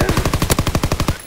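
Rapid automatic gunfire in the World War II shooter Call of Duty: WW2 during a Hardpoint match: a loud, close burst of about a dozen sharp shots in quick even rhythm, followed by a brief quiet tail.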